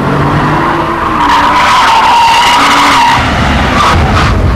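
A Porsche 911 Turbo driven hard around the Millbrook Alpine test circuit, loud continuous engine roar with tyres squealing through the bends, rising and falling pitch as it accelerates, no voices.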